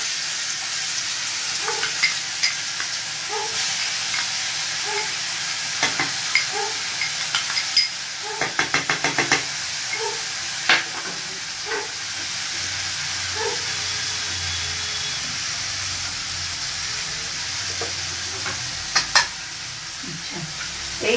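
Spice paste mixed with water fries in hot oil for a kofta curry, a steady hiss and sizzle with scattered clicks and scraping from stirring, plus a brief burst of crackling partway through.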